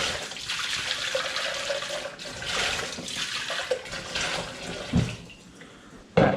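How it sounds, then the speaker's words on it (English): Tap water runs steadily while food is rinsed in a kitchen sink during butter chicken preparation, a continuous close splashing stream with a few sharper spatters near the end. "I'm going to rinse that one as well"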